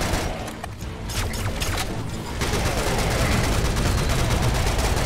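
Rapid bursts of AK assault rifle fire in the first-person shooter Serious Sam: Siberian Mayhem, loud and continuous, opening with choppy volleys that settle into a sustained, dense stream of shots.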